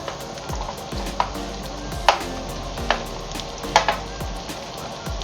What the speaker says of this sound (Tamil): இப்போ தக்காளி போடணும்.